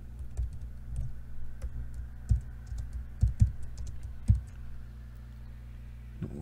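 Computer keyboard keys pressed while entering commands at a CAD command prompt, a few soft scattered clicks and heavier taps over a low electrical hum, close and fairly quiet.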